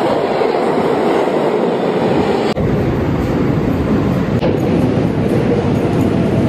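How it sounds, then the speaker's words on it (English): A train in motion gives a steady, loud rumble with rattling wagons and faint clickety-clack throughout, with no voices. "so I'm gonna take the train."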